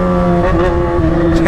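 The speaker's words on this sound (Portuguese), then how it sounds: "Passar esse escapão aqui no centro, causando mais que o carro da pamonha." Yamaha XJ6 motorcycle with a loud aftermarket exhaust rumbling close by in a city centre, a steady, strong droning engine note with no speech over it.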